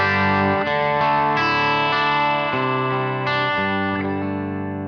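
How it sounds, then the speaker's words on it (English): An electric guitar amp with its gain turned up to the edge of breakup rings out close and loud, with several sustained, slightly gritty chords that change every second or so and let their harmonics decay. "so we get like an amp on the verge of breakup"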